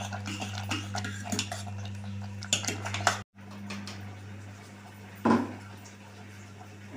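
Bobbatlu filling is stirred in a pan over a low flame, with soft scraping and clinks of a spoon against metal and a louder knock near the end, over a steady low hum.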